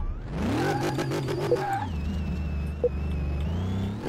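An 1100-horsepower race car built up from a scrapped wreck accelerates hard, its engine note climbing through the gears with a loud, close whine and a brief pause at the shift before rising again.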